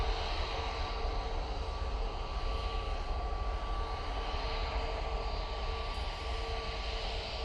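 A Boeing 787-9 Dreamliner jet at Manchester Airport gives off a steady, distant engine roar with a constant whine running through it, heard alone for several seconds.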